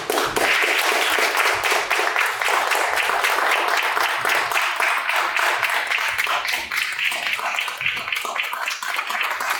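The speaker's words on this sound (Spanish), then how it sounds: "Francisca Reyes y Javier Kovacevic, a quienes invito a pasar a este escenario y para quienes pido un muy fuerte aplauso" Audience applause for a piano and cello duo at a 2021 season concert in Algarrobo, a dense, steady wash of clapping that stays loud and sustained for the whole stretch without a break.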